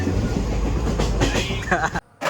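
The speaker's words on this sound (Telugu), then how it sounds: "హైదరాబాద్ వెళ్ళే ట్రైన్లో" Passenger train travelling from Nizamabad toward Hyderabad, heard from inside the carriage as a loud rumbling roll with rhythmic rail clatter and rattling, briefly dropping out near the end.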